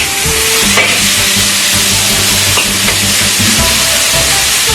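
Duck pieces stir-fried in a hot wok with bay leaves, star anise and ginger slices for beer duck, a loud, constant close sizzle broken by scraping strokes of the spatula, no voices.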